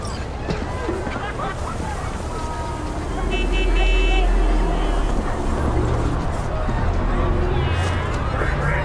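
A factory-new car driven through the city in Cyberpunk 2077 rumbles with a steady low engine drone, swelling louder midway, mixed with street ambience, horn-like tones and overlapping voices.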